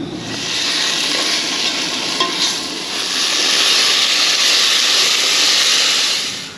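Flour- and pepper-coated stew meat is stirred in a hot pan while camping in a truck at 34 degrees, giving a loud, steady hissing sizzle that holds for several seconds without any voices.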